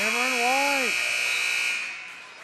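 A long steady arena buzzer blares at halftime of a college basketball game between Earlham and Wilmington, loud and sustained over a shouting voice at the start before fading.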